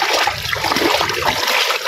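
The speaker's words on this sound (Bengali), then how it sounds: "সব দিক দিয়ে জল ঢুকতেছে" Floodwater pours in from all sides around village homes and a mosque during a flood, a loud continuous rushing and splashing close by.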